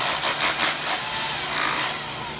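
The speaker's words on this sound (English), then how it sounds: "using the roto hammer with the big chisel bit on there and popping tile loose" A rapid, rattling rotary hammer with a big chisel bit hammers in quick pulses, popping pool tile loose, close and loud, then settles into a steadier grinding chatter.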